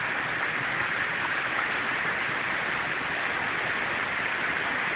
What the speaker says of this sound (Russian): А дождь идет и идет. Такой же сильный.